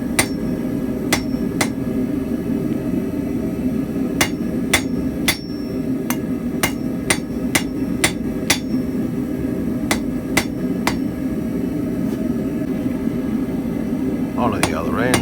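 Blacksmith hammering a hot taper on an iron drive hook pin fresh from the forge, sharp ringing blows on the anvil in irregular bursts over a constant forge roar.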